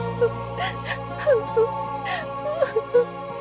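A cartoon girl cries inside a story scene, sounding as short whimpering sobs and wavering high moans in several separate bursts over a low steady background hum.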